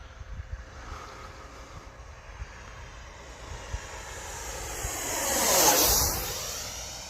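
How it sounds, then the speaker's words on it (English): A jet-like whoosh of twin 64mm ducted fans on an RC F-15 Eagle rises and swells as the aircraft passes nearby, with wind noise underneath throughout. "those twin 64mm ducted fans are just making this thing sound so awesome"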